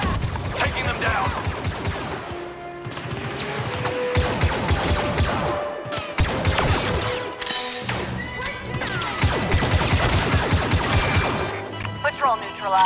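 Rapid blaster gunfire crackles through a Star Wars video game battle on a moon patrolled by Imperials, with bursts of zapping shots, crashes and impacts layered under loud, energetic voices and a musical score.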